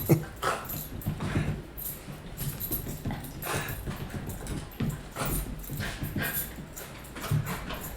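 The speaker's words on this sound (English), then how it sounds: "Happy dog to see me." A happy dog whimpering and whining in short repeated bursts, close and fairly soft, with scrabbling and movement noises between the cries.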